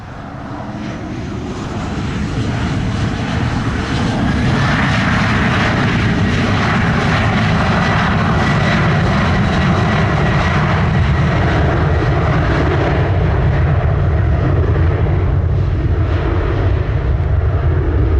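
A WestJet Boeing 737 takes off from runway 07 at Sangster International Airport in Montego Bay, Jamaica, its engines building into a loud, sustained roar that holds steady throughout, heard from nearby.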